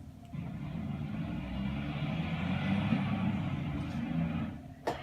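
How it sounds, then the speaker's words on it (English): A truck engine sound plays from a smart speaker in a home, a steady mid-loud rumble that swells slightly and holds for several seconds before a brief click at the end. "A truck sounds like this."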